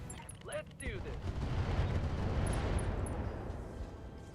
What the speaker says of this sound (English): Ammo explosion. That's what we want.